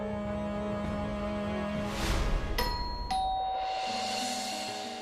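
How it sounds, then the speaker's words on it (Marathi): A doorbell gives a two-tone ding-dong inside a home, with two clear, ringing chimes that fade slowly over quiet background sound. "बेल वाजती, ऐकू नाही येते तुला?"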